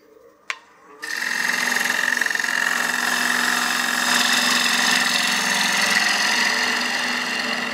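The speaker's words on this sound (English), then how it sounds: "a 4-inch bit's a really quick way to get rid of a lot of material right in the center" A 4-inch drill bit bores out the center of a wood blank for a succulent planter on a lathe, a steady loud whirring grind with a high whine that starts abruptly after a brief click and holds evenly throughout.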